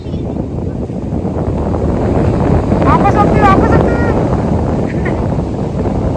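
Loud, continuous surf and wind roar from a Varkala beach in Kerala, building slightly midway, with a brief spoken phrase and a few faint distant voices over the steady wash of waves.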